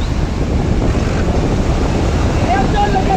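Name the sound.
big ocean waves during a boat race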